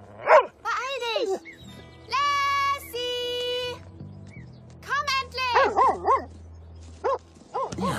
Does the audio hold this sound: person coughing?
no